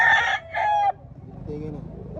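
A rooster crows nearby at a gamefowl expo in Carbon Public Market, a loud two-part call, followed by quieter background noise and faint murmuring.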